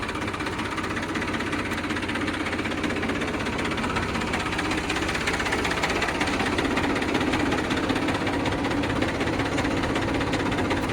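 A tractor engine runs steadily at close range, a dense continuous mechanical rumble with a knocking, vibrating texture that holds level for the whole stretch without talk.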